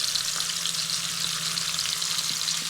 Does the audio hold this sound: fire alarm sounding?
no